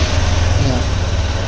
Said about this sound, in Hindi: अगर मैं बाइक को स्टार्ट करता हूँ तो